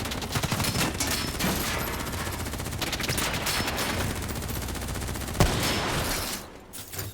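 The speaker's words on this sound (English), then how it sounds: "Who's shooting?" Sustained automatic gunfire rattles loudly through a Call of Duty cutscene, dense bursts running continuously with one sharp crack near the end before the firing drops away.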